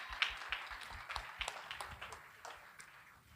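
Faint, scattered clapping from a small audience at a music production company's showcase event, irregular claps thinning out over a few seconds with no talking on top.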